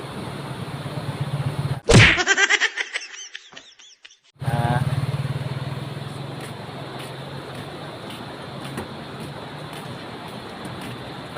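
A motorcycle crosses a hanging bridge, its engine droning close by with sharp knocking and rattling bursts as it rolls over the deck, after which the steady hum of the ride carries on.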